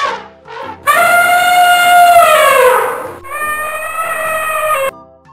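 An elephant trumpets loudly in two long, brassy calls, the first swelling and bending downward, the second steadier, preceded by a couple of short lower sounds.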